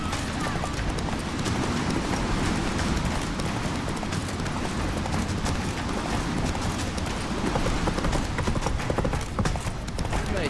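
Roach, the horse from The Witcher 3 video game, gallops in a steady, rapid clip-clop of hooves that runs the whole time under a busy game soundscape, with voices talking over it.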